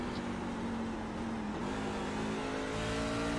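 A racing truck engine in a sim racing game at Phoenix, a steady loud drone with the pitch dipping briefly as it shifts down a gear and then climbing again under power, with no talk.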